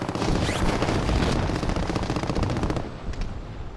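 Heavy sustained automatic gunfire in a video game fires continuously, loud and dense with booming hits, then cuts off into a few fainter trailing shots; no talk.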